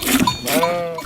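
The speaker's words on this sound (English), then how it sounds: "After Easter, on St. George's Day, the sheep are driven to the sheepfold." A flock of sheep is driven to the sheepfold on St. George's Day in Ojdula, Szeklerland. Loud, close bleating overlaps in quick succession with a busy outdoor bustle behind it.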